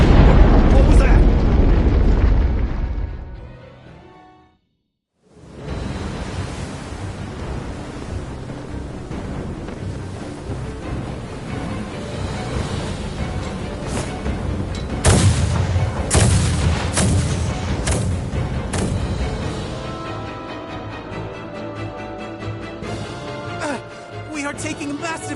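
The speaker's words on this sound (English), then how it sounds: "Their unceasing bombardment is laying waste to our forces." Heavy naval artillery bombardment in the Star Ocean The Divine Force video game, with deep rumbling blasts and a roaring wash of noise. A brief silent gap is followed by sustained booming that has sharper impacts midway, and voices are faintly present.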